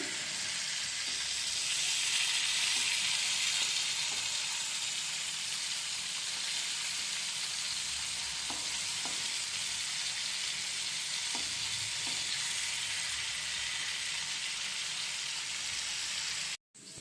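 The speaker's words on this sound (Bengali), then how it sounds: "টমেটোগুলো আমার ভাজা শেষ।" Steady sizzling of tomatoes frying in a pan, a continuous hiss with a few faint clicks of stirring, no voices.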